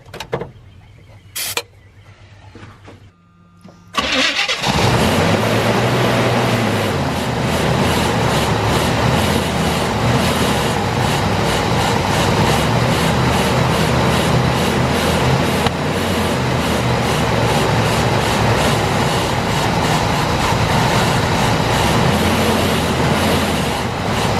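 After a few faint clicks, an old Chevy engine, unrun for ten years and getting no fuel, cranks loudly and continuously in a fast rhythmic churn for about twenty seconds without ever catching.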